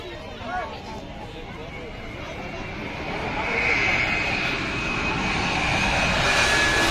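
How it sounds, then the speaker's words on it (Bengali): An EgyptAir Boeing 787 Dreamliner approaches the runway, its jet engines a rising, rumbling roar heard from a distance amid faint crowd babble, growing steadily louder toward the end. "দেখতে পাচ্ছেন এগিয়ে আসছে ড্রিম লাইনার"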